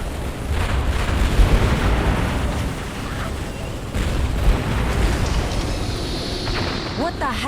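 Ordnance strike explosions in the Halo Wars real-time strategy game, a loud continuous rumbling barrage of booms and bursts in dense waves, with game sound layered on top.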